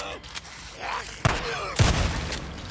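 Gunfire in the video game Days Gone, with a few heavy, booming shots spaced apart over a background of game noise and voice sounds.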